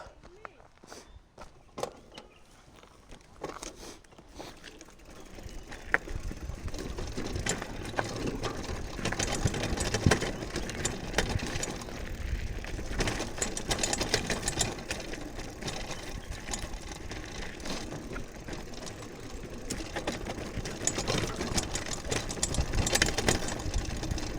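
An off-road vehicle's engine runs on forest trails in Wayanad, a steady rough mechanical drone that swells louder after a few seconds of quieter rumbling and holds on continuously and close by.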